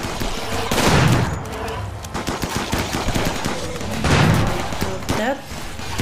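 Turret gunfire in Rimworld rattles out in dense, rapid bursts that swell twice into heavier volleys, steady and close throughout.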